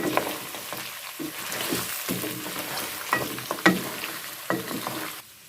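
Cinnamon, cardamom, cumin and black pepper go into a hot pan for mutton karahi, sizzling steadily while a utensil stirs and scrapes through them in irregular clanks, close and fairly loud with no talking.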